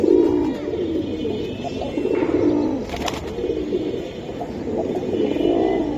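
Red pigeons offered for sale cooing up close, loud overlapping throaty coos rolling on in waves with no talk.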